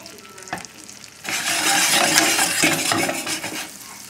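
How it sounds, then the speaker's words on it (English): Chicken milanese sizzles loudly in a frying pan with olive oil and butter, a dense crackling hiss that starts after a quiet moment and a light clink, then holds steady. "as long as you see little sizzling like that, we're cooking"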